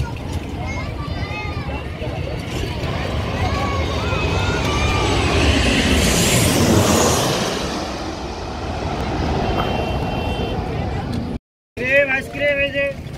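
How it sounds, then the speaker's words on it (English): A plane lands at Hazrat Shahjalal International Airport in Dhaka, its roar swelling to a loud peak and easing off over about ten seconds amid outdoor bustle, with a voice speaking near the end. "the plane comes and lands"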